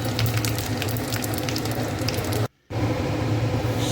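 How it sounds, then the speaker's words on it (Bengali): Dry red chillies, panch phoron and bay leaves frying in hot oil in a kadai give a steady, dense sizzle, close and constant, broken by one brief silent cut before the frying resumes. "তেজপাতা একটু চালিয়ে দিলাম"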